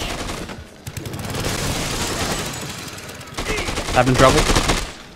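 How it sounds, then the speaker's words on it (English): Gunfire from Dead Rising 2: Off the Record, with dense bursts of shots under a busy game mix. A sharper cluster of loud cracks comes near the end, and a voice speaks briefly over it. "Stop shooting me, assholes!"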